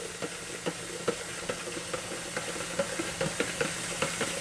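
Water runs steadily into a container for Kool-Aid, a hissing pour with a spoon clicking and knocking against the sides at an uneven, fairly quick rhythm as the drink is stirred.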